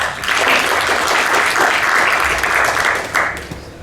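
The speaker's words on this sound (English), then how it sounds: "Hands of applause, please." A conference audience at a Droidcon Lisbon Android developer talk applauds to welcome the next speaker, a sustained, fairly loud burst of clapping that fades near the end.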